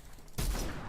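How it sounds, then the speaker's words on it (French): A shotgun in the video game Fortnite fires: a sudden loud burst cuts in partway through and holds as a dense, roaring blast of gunfire, with no voices. "cadence pétée du shotgun"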